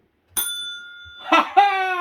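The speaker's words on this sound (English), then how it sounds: "hit that bell. The notification bell." Bright notification bell chime rings out once, followed by a short burst of bell-like ringing tones, crisp and close against silence.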